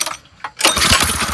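A 212 minibike engine catches after a choked pull, jumping from quiet into a loud, steady running roar close by.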